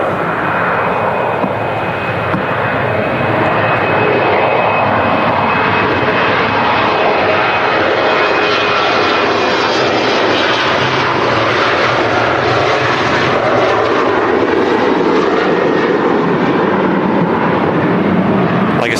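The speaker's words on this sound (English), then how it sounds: "we've got the Finnair heading back to Helsinki" A Finnair jet airliner departs Manchester Airport on a runway 1 takeoff, its engines roaring loud and steady for the whole stretch, a broad sustained rumble and whine with no voices over it.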